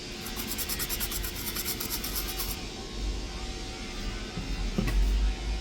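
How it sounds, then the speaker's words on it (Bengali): Glue and dust being rubbed off an engine computer: a steady, close scrubbing and brushing with an even texture throughout, with a few light knocks near the end. "দেখুন এরকম খুব সুন্দরভাবে ক্লিন করে নেবেন,"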